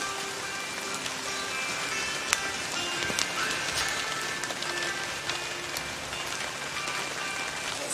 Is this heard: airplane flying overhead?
no